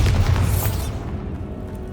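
A Bombarda spell in Hogwarts Legacy sets off one deep, loud boom with a crackling burst, and the rumble fades away over the next second or so.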